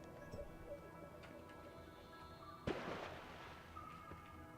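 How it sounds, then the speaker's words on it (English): In the Noita video game, speed sets off explosions, heard as one sudden sharp blast followed by crackling debris over a low background hum, fairly quiet overall. "Explosions from going fast."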